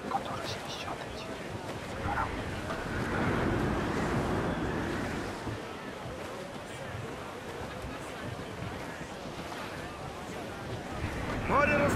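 Stormy sea with crashing waves and gusting wind around a sailing ship in Assassin's Creed IV Black Flag, a rolling surging roar swelling and easing, with voices heard over it.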